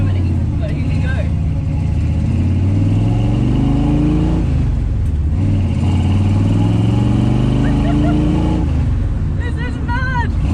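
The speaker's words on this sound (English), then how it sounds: "Driving an original car from Gone in 60 Seconds here in" An original Ford from Gone in 60 Seconds driving in East Germany, its engine loud and close, rising and falling in pitch as it revs, with people talking over it.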